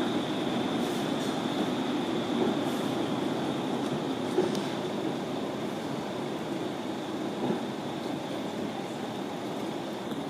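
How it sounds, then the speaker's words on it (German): A Bielefeld Stadtbahn line 4 tram rolls past with a steady broad rumble and a faint high tonal whine, holding even loudness throughout, no voices. "Jetzt kommt auf einer anderen Seite die Linie 4, das ist die neue Warmostbahn."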